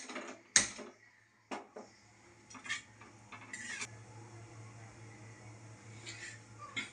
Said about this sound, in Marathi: तर मी कढई घेतले, तेल लावून करूया गरम.